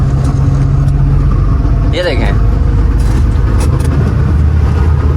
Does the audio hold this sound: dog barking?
no